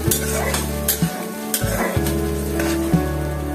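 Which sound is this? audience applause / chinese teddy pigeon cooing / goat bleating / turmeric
turmeric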